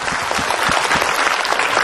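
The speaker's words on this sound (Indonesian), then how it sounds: "Tepuk tangan dulu dong." Loud, dense clapping from a studio audience at an Islamic religious TV program, a continuous burst of many hands close by with no voices over it.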